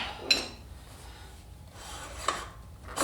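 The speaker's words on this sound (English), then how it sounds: "So out comes the axle" Axle sliding out of a Yamaha Raider motorcycle's rear wheel during a tire swap, with faint metallic scraping and a few sharp clicks and knocks spread across the moment.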